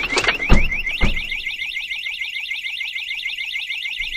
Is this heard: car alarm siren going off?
yes